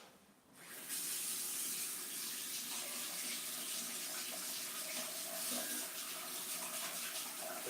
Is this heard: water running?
yes